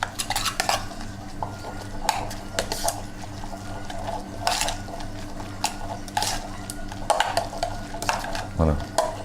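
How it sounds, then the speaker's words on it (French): A spoon stirs coarsely chopped herbs into crab meat in a bowl, making close, repeated scraping and clinking sounds against the dish under a soft background hum. "Alors, ensuite, on mélange bien."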